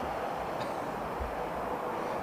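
A steady, broad roar of an airliner taking off from Heathrow runway 09R fills the clip at moderate level, with no speech.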